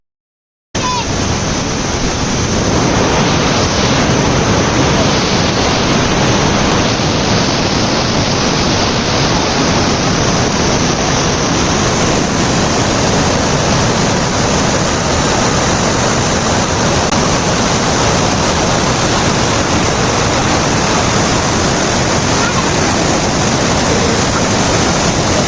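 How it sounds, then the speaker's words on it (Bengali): A mountain waterfall and stream pour over rocks in a loud, unbroken rushing roar of water that holds steady throughout. "স্বচ্ছ জল, পাথরের উপর দিয়ে বয়ে চলা স্রোত আর চারপাশের নিস্তব্ধ পাহাড়ি পরিবেশ, তার সাথে ঝর্ণার অদ্ভুত শব্দ"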